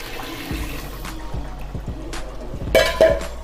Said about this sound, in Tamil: நான் 1 கப்பு அரிசி எடுத்தேன், 2 கப்பு தண்ணி ஊற்றுறேன்.